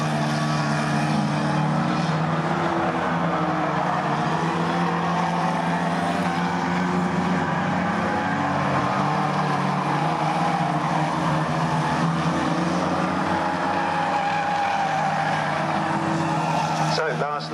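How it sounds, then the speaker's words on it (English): Stock rod race cars in a Bangers Against Cancer heat at Swaffham Raceway, engines droning and revving steadily as they lap the oval, with occasional tyre scrub, at a constant loud level throughout. "Here comes Dan Tunmore to take the win"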